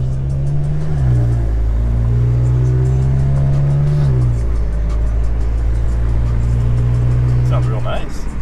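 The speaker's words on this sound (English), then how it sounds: "Sounds real nice. Look at that Magnaflow, bro. I know it sounds like real deep." A VW Golf R with a deep Magnaflow exhaust drones with a low, steady tone that shifts pitch briefly as it revs, loud and close, while people talk over it.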